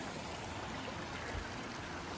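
Cochetopa Creek, a good-sized mountain creek in Colorado, flows in a steady, even rush of water, heard at moderate level without any voices.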